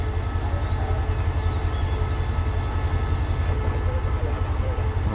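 A new QSY 1143 locomotive stands at Chachoengsao coupled to a 26-car train during a brake and air pressure test, giving a steady, loud, low rumbling hum of idling engine and air equipment that holds unbroken throughout.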